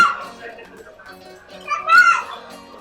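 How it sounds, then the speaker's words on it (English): Children's voices chatter and shout nearby amid a busy, echoing casino restaurant, with excited squeals as kids play. "There are kids running around even though this is a casino."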